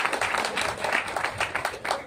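An audience applauds a Marathi language minister's speech at a regional Vedic gathering in Ratnagiri, with steady, moderately distant clapping running for about two seconds.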